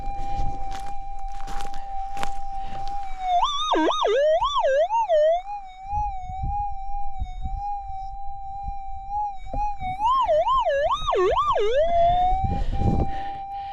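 Metal detector sweeping over gold-bearing ground gives a steady electronic tone that warbles and swoops in pitch at two points, with footsteps and crunching ground noise underneath and no talking.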